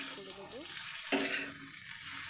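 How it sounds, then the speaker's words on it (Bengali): Potato and pointed gourd pieces dropped one by one into hot oil, a sudden bright sizzle bursting up after a moment of faint clatter, then settling into a softer crackle. "এইবার এতে আমরা এক এক করে আলু এবং পটলটা অ্যাড করে দেবো"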